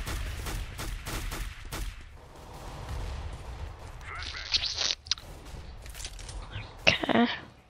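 Video game gunfire in Counter-Strike: Global Offensive, a string of sharp gunshot cracks and bursts spread across the moment, fairly quiet under a low background hum with a voice murmuring along.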